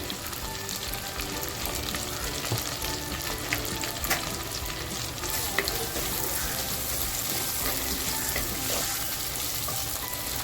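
Coriander and poppy seeds sizzle and crackle in hot oil for a mutton curry, a steady close fizz with small pops and occasional stirring, heard without talking.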